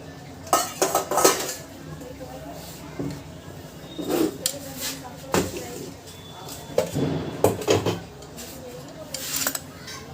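Metal utensils clink and scrape against dishes while flour is added to drumstick (moringa) pulp in a home kitchen, with scattered bursts of clatter between quieter moments.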